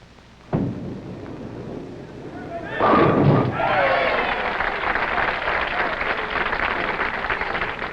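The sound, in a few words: bowling ball striking pins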